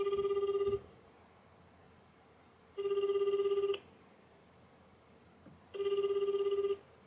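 A telephone rings three times on an outgoing call to an office in Ube, Yamaguchi, each burst about a second long with a steady electronic bell tone, separated by quiet gaps, with no one answering.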